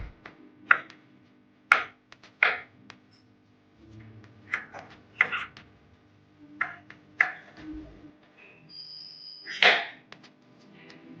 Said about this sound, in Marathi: त्यामुळे आपण हे आता बारीक पीस मध्ये कट करून घेऊया.